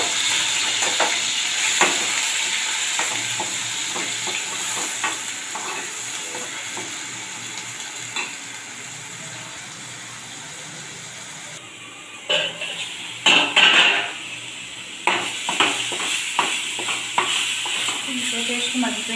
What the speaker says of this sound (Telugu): తగినంత ఆయిల్, తర్వాత ఇదిగోండి ఉల్లిపాయ గుజ్జు వేసుకుంటున్నాం